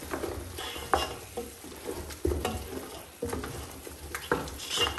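A spoon stirs and scrapes through a pot of soft tomatoes and liver cooking on the stove, irregular clunks and scrapes over a low background sizzle, close by and without talk.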